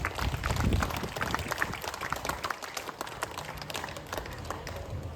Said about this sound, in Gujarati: એકવાર જોરદાર તાળીઓ થઈ જાય આપણા મહાનુભાવો માટે